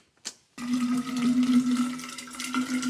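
Water runs from a tap into a container, with a brief click and short hiss before a steady, close rushing flow starts and carries on with a faint resonant tone as it fills.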